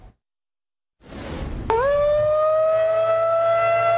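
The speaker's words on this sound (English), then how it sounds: "Their tornado sirens outshouted the thunder" Tornado warning siren on a campus during a storm, rising after a short silence into a loud, sustained wail with a clean steady tone that holds to the end.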